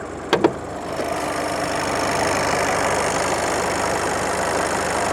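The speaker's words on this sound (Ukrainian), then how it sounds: "Зараз відкриємо підкапотний простір, послухайте мотор." After a couple of sharp clicks, the 1.6 diesel engine of a 2020 Volkswagen Golf Variant idles under an open hood with a steady, even rumble close by, running smoothly without variation.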